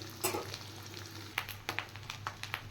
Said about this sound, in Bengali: আর একটু ফ্রাই হবে এই জন্য পেঁয়াজটা আমি একটু কম করে ভেজেছি প্রথমে